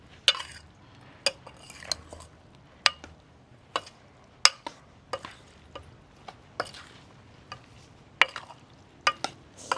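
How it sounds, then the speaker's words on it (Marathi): A spoon stirs a spiced yogurt marinade into raw chicken for a village-style chicken korma, giving sharp, irregular metallic clinks against the bowl, close and fairly quiet, with no voices. "आणि हे आता छानपैकी मिक्स करून घेऊया"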